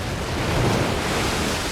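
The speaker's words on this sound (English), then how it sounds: "Waves are smashing and crashing on the rocks up there." Waves crash against rocks off an island shore in steady broadband surf, with gusting wind noise over the microphone and no talk.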